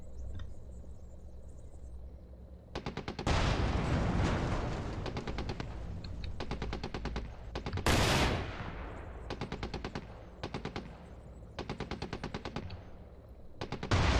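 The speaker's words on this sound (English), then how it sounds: "That's close artillery hit." Close artillery impact in the tank video game GHPC, a sudden heavy blast with a long rumbling tail, amid repeated bursts of machine-gun fire and sharp gunshots across the whole stretch.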